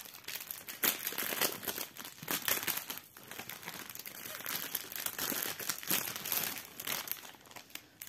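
Crinkly plastic packaging of a diamond painting kit being opened and handled, a continuous close-up crumpling with irregular crackles and small tearing bursts throughout, fairly loud with no talking.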